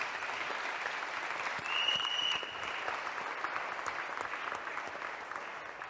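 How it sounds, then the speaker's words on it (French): A church congregation applauds to praise the Lord, steady sustained clapping from a large crowd that swells briefly, with no voice over it. "Acclame le Seigneur pour cela."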